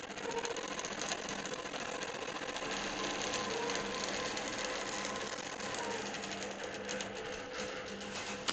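A computerized longarm quilting machine stitches an edge-to-edge quilt pattern, giving a steady, fast mechanical whir and needle chatter that runs unbroken at moderate level with no talking.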